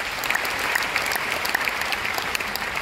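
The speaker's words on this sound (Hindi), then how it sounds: "जोरदार तालियां।" Sustained applause from a meeting audience fills the whole stretch, dense and steady with scattered sharper claps, no voices over it.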